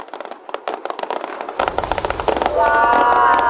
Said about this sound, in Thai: จะมีการจุดพลุอยู่บริเวณนี้นะคะ